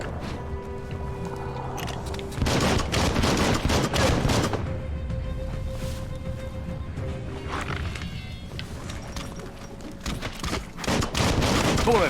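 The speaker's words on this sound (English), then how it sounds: "Bullets everywhere." Video game gunfire in Biomutant, dense rapid bursts of shots and impacts layered over game music and ambience, continuing loudly through the whole stretch with brief pauses between volleys.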